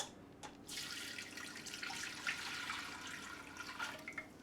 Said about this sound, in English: I'm just going to strain the water through here